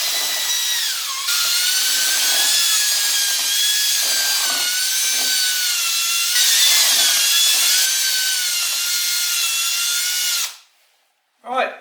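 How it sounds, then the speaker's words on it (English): A hand drill whirs continuously at high pitch while mixing cream for a no-bake lemon cheesecake, wavering a little in tone, then stops abruptly near the end. "Now this is the beauty of using a hand drill. It's pretty quick."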